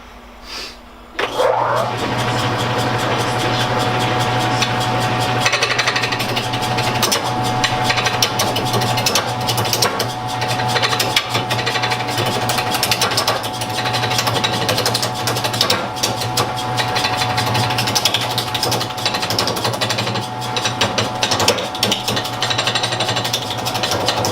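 A wood lathe starts up and runs at its lowest speed while a roughing gouge works a bowl blank, producing a steady motor hum with dense rapid chattering cuts throughout and no talking.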